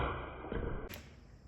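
A hunting arrow shot from a MEGABAT REVERSE bow hits the target with a sharp, close thud, following a steady background hum.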